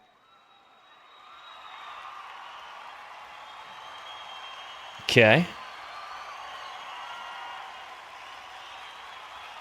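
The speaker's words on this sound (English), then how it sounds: "So here's some applause." Concert audience applause from the film Stop Making Sense: a steady wash of clapping and crowd noise that swells and holds for several seconds, briefly cut by a single short spoken word.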